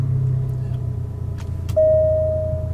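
An Alfa Romeo Giulia idles with a low rumble before a push-button start brings a short whir and a sustained steady tone from the engine system, with a couple of faint clicks inside the car.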